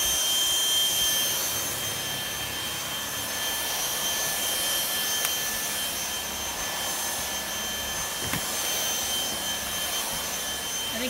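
A Bissell Multi-Reach cordless stick vacuum runs steadily, giving a constant airy whine with a high-pitched motor tone, close and even throughout with no talking.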